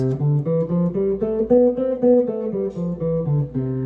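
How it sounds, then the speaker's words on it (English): Single guitar notes climbing and descending a major scale in an even rhythm, ringing over a soft repeating accompaniment. "I'm just going to play the major scale over it"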